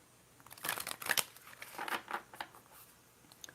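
A deck of tarot cards is shuffled close up in a quiet room, giving several soft papery riffles and crinkles in bursts with short pauses between them.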